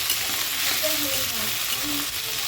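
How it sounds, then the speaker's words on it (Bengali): Potatoes fry in hot oil with a loud, dense sizzle that holds steady throughout, and faint tonal sounds come through underneath. "আলু ভেজে নিচ্ছে আলুগুলোও ভেজে নেবে"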